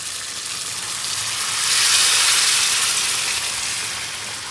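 Hot water poured into a wok of frying chicken sends up a strong, steady steaming hiss and sizzle that swells in the middle and eases off, close and alone without talk.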